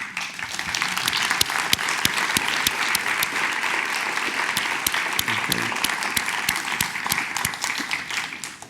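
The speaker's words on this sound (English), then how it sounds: "we want to make sure that we extend a round of applause to them" Crowd applause at the closing of a statewide health summit, a sustained, even roar of many hands clapping with sharp individual claps standing out, steady from start to finish.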